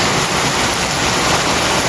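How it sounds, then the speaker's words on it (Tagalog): Heavy rain pouring steadily during a pigeon race in Pampanga, a dense, loud, unbroken hiss with no pauses. "Ayan, sobrang lakas ng ulan."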